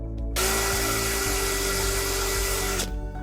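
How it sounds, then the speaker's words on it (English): A power drill pre-drills a pilot hole with a 5/64 drill bit to mount a soft-close adapter on a cabinet door, giving a close, loud, steady whirring run of about two and a half seconds before it cuts off. "you will be pre-drilling with a 5/64 drill bit"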